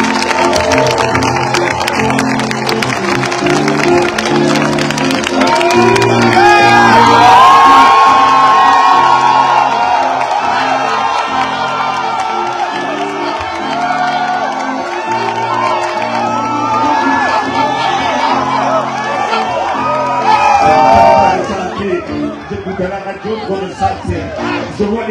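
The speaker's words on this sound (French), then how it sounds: "Je veux que vous applaudissiez pendant une minute pour lui" A concert crowd cheers, whoops and applauds loudly and without a break, a dense roar that swells midway and eases near the end, with raised voices mixed in.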